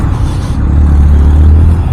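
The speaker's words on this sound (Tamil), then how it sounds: "அவ்வளோ டிராஃபிக் இருக்குது." Heavy road traffic in Bangalore, heard from a motorcycle: loud, dense low rumble of engines with a vehicle droning close by for most of the short stretch.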